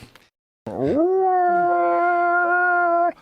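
A person imitates a wolf-like howl, one long sustained wavering tone held for over two seconds, loud and close, rising at the start and cutting off abruptly.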